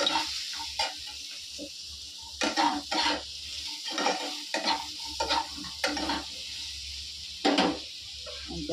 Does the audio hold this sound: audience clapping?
no